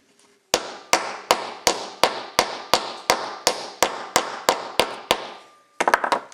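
A ball peen hammer drives a bearing into a steering knuckle with about a dozen sharp, ringing metallic strikes at a steady rhythm, then a quick cluster of lighter taps after a short pause.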